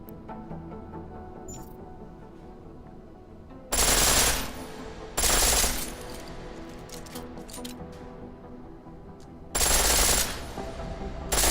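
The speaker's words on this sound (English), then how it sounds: "The pistol in full auto will take down targets fast, but it'll burn through your ammo." A pistol set to full auto in Deus Ex: Mankind Divided lets off three rapid, loud bursts, the first two close together and the third after a pause, over a steady low background hum.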